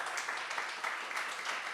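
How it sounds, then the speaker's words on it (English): A conference audience at Berlin Mini GUADEC 2024 claps for Red Hat, a faint, brief spatter of applause heard from a distance. "a round of applause for Red Hat"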